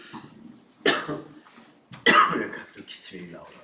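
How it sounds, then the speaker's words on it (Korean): Two sharp coughs in an indoor classroom setting, one just before the midpoint and another louder one after, each followed by a short rasping tail, with quiet room tone between. "또 기침이 나오나."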